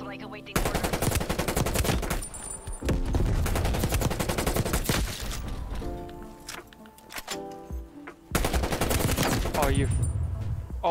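KRIG 6 rifle fire in the video game Black Ops Cold War comes in loud, rapid automatic bursts separated by short pauses, with game sounds and talk mixed in.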